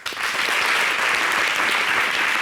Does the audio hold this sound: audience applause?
yes